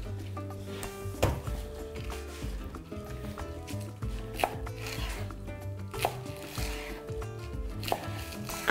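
A knife chops Napa cabbage and other filling ingredients for smoked chicken spring rolls on a cutting board, sharp irregular knocks close by over soft background music.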